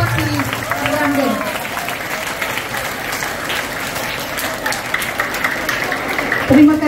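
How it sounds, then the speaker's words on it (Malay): Schoolchildren clapping together at a teacher's retirement ceremony in a school hall, a steady wash of applause with voices and crowd noise mixed in, a louder burst near the end. "marilah kita berikan tepukan yang paling gemuruh untuk Cikgu Saraswati Ranggan."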